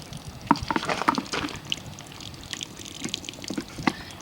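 Washer fluid runs and trickles out of the tank of a 1999 Lincoln Navigator, a close, uneven splashing and dripping with scattered sharper drops over a soft continuous flow.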